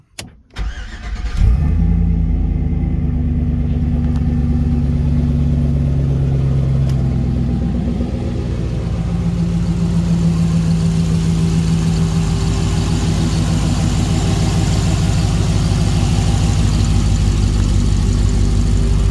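An engine-swapped truck cranks briefly and catches, then settles into a loud, steady low rumbling idle with a deep exhaust note that holds close and constant to the end.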